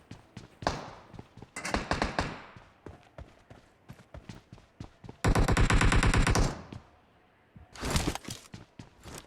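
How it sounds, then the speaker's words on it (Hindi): Rapid automatic gunfire in a shooter video game, loud bursts of rattling shots interspersed with single taps and a long sustained volley, with brief quiet gaps between exchanges. "उधर पे ना थोड़ा फायर हो रहा होता है"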